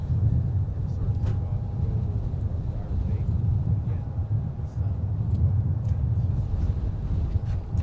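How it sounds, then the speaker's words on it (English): Gusty wind rumbling outdoors at MSP airport, a steady low roar that fills the whole stretch with a faint tonal hum in the background and no clear voices. "it's a bit windy today, folks. It is actually quite breezy"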